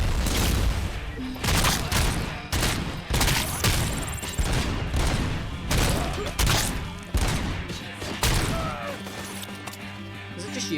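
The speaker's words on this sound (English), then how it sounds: "Oh no, grenade!" Rapid gunfire and heavy explosive blasts, including a grenade, in the shooter game RoboCop: Rogue City, bursts and booms crowding the scene while someone talks over the action.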